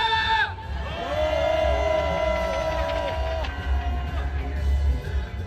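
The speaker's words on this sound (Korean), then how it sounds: "퇴거를 명령하는 우리의 분노의 함성 시작!" A street protest crowd marching against joint US–South Korean war drills raises a loud, sustained collective roar of angry shouting, the massed voices swelling together then fading slightly before rising again.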